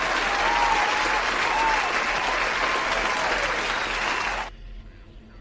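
A crowd applause effect plays during a podcast: dense, steady clapping and cheering holds for about four and a half seconds, then cuts off abruptly to near quiet.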